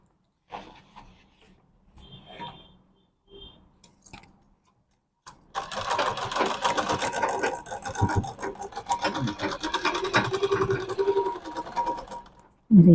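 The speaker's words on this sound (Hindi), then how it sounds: "अब इसे हम यहाँ से सिलाई कर देंगे।" A sewing machine stitches a medium-size bag in a sustained, dense run after sparse handling sounds and a brief pause, close and fairly loud.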